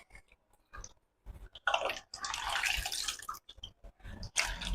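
Sliced potatoes for homemade wafers are dropped and stirred by hand in a basin of clean water, giving soft splashes, sloshing and drips in short bursts between quiet pauses.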